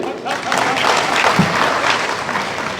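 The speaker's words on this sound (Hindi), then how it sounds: "ताली बजाइए उनके लिए" An audience breaks into applause, a brief burst of dense clapping filling a few seconds at fairly close range.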